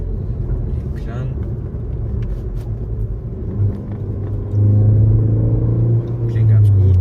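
A Ford Focus ST with a 280 hp petrol engine idles with a low rumble, then revs up into a stronger, steady drone with rising pitch, heard up close while someone speaks.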